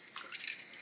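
Water is poured for testing toy boats, a short, soft splash and trickle lasting about half a second, faint and alone.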